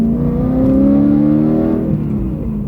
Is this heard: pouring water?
no